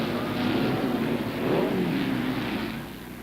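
Off-road race cars tear around a riverside track with engines at full power, a loud, continuous roar that swells and fades as the machines pass, rising twice before easing off near the end.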